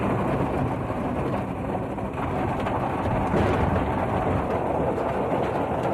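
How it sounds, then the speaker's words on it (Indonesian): Heavy rain pours down steadily in a broadband hiss that fills the whole stretch, with no voices and a few faint, distant rumbles mixed into the downpour. "Daripada hujan nanti semakin deras."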